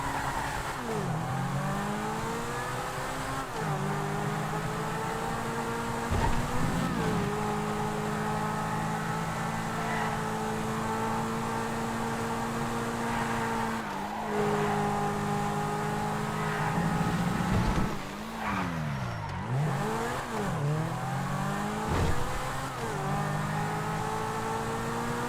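Engine of a Vaca two-door supercar in GTA 5 revving and shifting through gears on a test drive, a continuous loud drone rising and dropping in pitch with several downshifts and rev blips, no talking.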